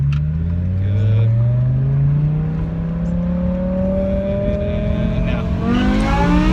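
A BMW E60 M5 with its V10 engine accelerates hard, its loud, close engine note climbing steadily in pitch with a smooth rising whine and no gear-shift break.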